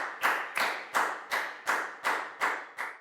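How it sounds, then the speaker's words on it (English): In a classroom, a group claps together in a steady rhythm, eight or so sharp unison claps spaced evenly, close and bright with no talking over them. "And a big round of applause for everybody for doing a great job."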